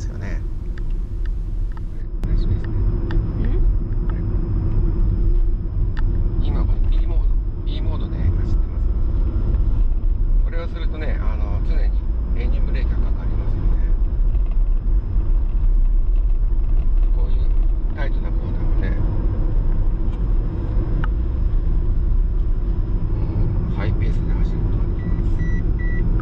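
Toyota Voxy Hybrid ZS minivan taking tight corners in B mode: a low, continuous rumble of drivetrain and road noise runs throughout, steady and close, beneath someone talking.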